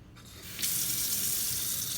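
Tap water running into a sink, rinsing shrimp shells down the drain, starting softer and then surging to a full, steady splashing stream close by.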